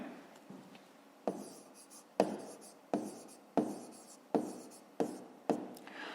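Pen writing by hand on paper while working a fifth-grade math exercise, a quiet close-up series of about eight sharp scratchy strokes, each starting with a tap and trailing off, in an otherwise silent room.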